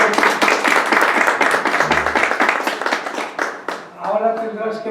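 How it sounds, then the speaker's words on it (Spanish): An audience at an International Day of Persons with Disabilities commemoration gives a speaker a dense, steady round of clapping that fades near the end, when a voice starts talking. "así que le damos un aplauso."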